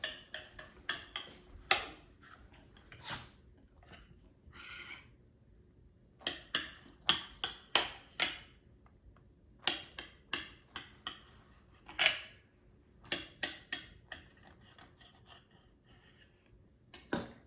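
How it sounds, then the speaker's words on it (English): A knife slicing through air-fried cornbread, giving a run of sharp, close ticks and light knocks against a board in irregular bursts with short pauses, alone without talk. "And now let's slice the cornbread."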